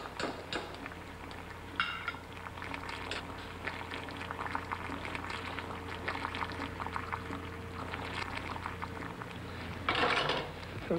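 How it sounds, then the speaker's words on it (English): Boiled beans being drained from a pot in a home kitchen, with a steady watery pour and splashing running throughout, faint clinks of cookware, and a louder burst of rushing water near the end. "Just drain them well. I don't want any water on the plate."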